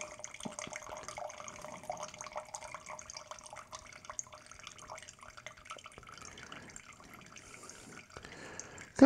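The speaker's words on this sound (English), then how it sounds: "Kind of a long pour there." Wine poured into a glass in a long, continuous trickling stream, close and steady, with faint dripping toward the end and no speech over it.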